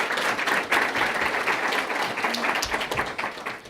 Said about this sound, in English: so let's give them a round of applause also.